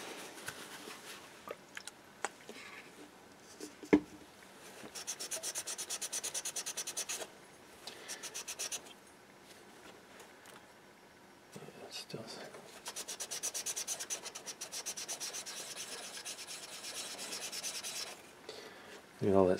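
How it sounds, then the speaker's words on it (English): Aluminum heatsink from a Sony CDP 200 CD player rubbed clean with a cloth and rubbing alcohol: quiet bursts of brisk scrubbing separated by pauses, close up and faint, with no speech. "I'll clean it first with some rubbing alcohol so the top surface is clean."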